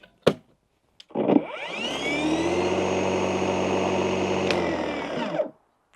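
A Sequoia cordless battery lawn mower's electric motor spins up smoothly after a click, ramping to a steady loud whine and hum for about four seconds before cutting off, with no talk.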